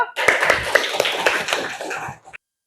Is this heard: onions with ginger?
no